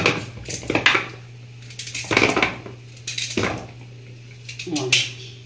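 A knife strikes a cutting board in a few sharp chopping knocks as it cuts sweet potato, spaced irregularly, with a steady low hum in the background.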